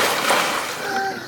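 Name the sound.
splash of a person jumping into the water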